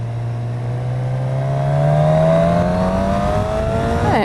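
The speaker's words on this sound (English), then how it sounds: "at least I can listen to the sound of the bike" A Suzuki Katana motorcycle engine revs up, its loud, close drone rising steadily in pitch for about four seconds before cutting off abruptly, with no talking over it.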